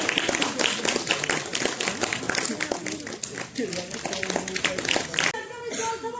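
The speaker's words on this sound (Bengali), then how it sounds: "আপনাকে জোরে করতালি দিন।" Audience applause at a theatre festival in Bengal, with dense, steady clapping through most of the stretch and voices talking over it, thinning near the end.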